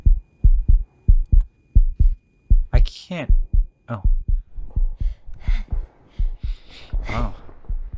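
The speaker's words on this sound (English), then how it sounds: "I hear my heartbeat." Heavy double-thump heartbeat pounding steadily in the video game The Invincible, close and low, continuing under a man's gasps and brief speech.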